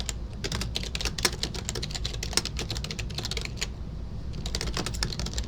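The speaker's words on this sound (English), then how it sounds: "if we type it correctly" Fast bursts of crisp keystrokes clatter on a computer keyboard, quiet and close, with a couple of brief pauses between runs of typing.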